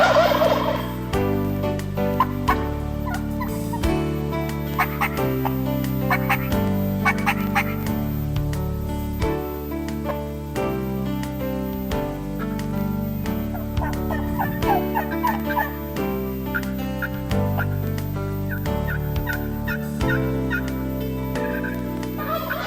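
Wild turkeys gobble repeatedly in reply to a hunter's calling during a spring hunt, loud overlapping bursts at varying distance over a steady outdoor background.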